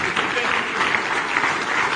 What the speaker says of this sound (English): please keep clapping, keep clapping, keep clapping